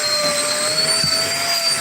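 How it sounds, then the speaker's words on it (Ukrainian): Dnipro-m cordless vacuum cleaner running inside a car: a steady high-pitched motor whine with a constant airflow hiss, close and loud, plus a brief thump midway. "Досить гарно пилососу. Потужності в нього вистачає."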